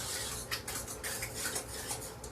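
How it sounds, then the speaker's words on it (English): A utensil scraping and clinking against a pot as a cooking mixture is stirred, quiet irregular scrapes repeating close by with no talk. "we're going to stir that around"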